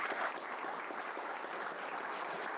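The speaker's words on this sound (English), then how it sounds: "So let's give everyone a big round of applause." Audience applause at the close of a construction-industry talk on offsite building methods, a steady dense wash of clapping from many hands, fairly faint and continuous throughout with no voices over it.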